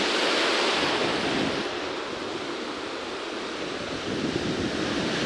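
Sea surf breaking steadily at the shore where bass are fished, a continuous broad wash of waves close by with wind buffeting the microphone, no voices.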